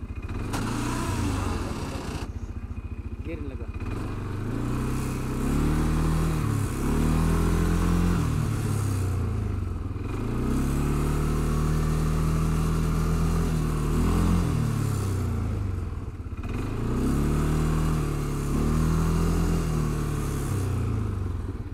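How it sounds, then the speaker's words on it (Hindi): An ATV with a 550cc engine runs loudly nearby, revving in repeated rising and falling surges roughly every five seconds over a steady idle, with no talk. "पाँच सौ पचास सीसी का इंजन इसका"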